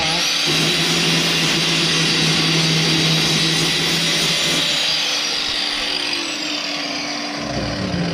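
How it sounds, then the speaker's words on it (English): An angle grinder grinds down a patch of metal to bare a clean spot for a welding ground clamp, a loud, close, steady high whine with abrasive hiss and small shifts in tone as the load changes, with no voices. "you just grab out a grinder as such, and you just grind down yourself a spot"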